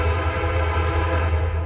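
A train passing on nearby tracks, a loud steady rumble with droning engine tones and rattling wheels, close by and continuous.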